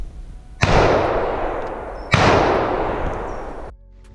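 Two loud, close gunshots ring out about a second and a half apart at a wild boar driven hunt. Each blast has a long echoing decay, and no one speaks.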